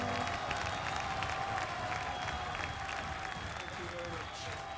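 Concert crowd applause from a live album, a steady, distant wash of clapping and crowd noise heard quietly from the record under light background talk.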